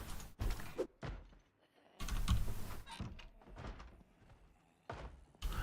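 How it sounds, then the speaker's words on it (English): Zombie banging on a door in Project Zomboid: a run of heavy, irregular thuds and knocks, several close together, then a short pause and more pounding, fairly loud, with no voices. "I hear someone knocking a door."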